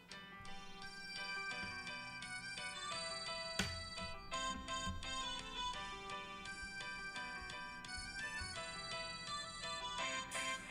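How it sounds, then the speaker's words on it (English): A phone ringtone plays a bright, repeating electronic melody for the whole stretch, steady and fairly loud with no talking over it. "that would be me getting a phone call."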